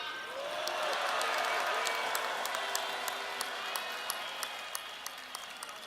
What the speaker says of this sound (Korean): 다시 한번 힘내라고, 그리고 믿는다고 큰 함성과 박수 부탁드립니다.